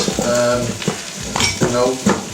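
Eggs stirred into boxed cake mix in a bowl: loud, close scraping and sloshing strokes that come in repeated rhythmic bursts.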